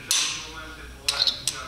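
A slide hammer is used on an Audi S6 C5 4.2 V8 engine, giving a sharp metallic hit followed by a few quick clinks and a final knock, close and clear.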